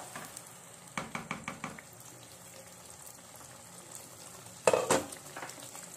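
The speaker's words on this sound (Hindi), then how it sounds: "प्याज और टमाटर और लहसुन अदरक के पेस्ट को हम बहुत अच्छी तरीके से भून लेंगे।" Onion and tomato paste with garlic-ginger paste fries faintly in a pan, broken by two bursts of quick stirring strokes, a rhythmic cluster early and a sharper pair later.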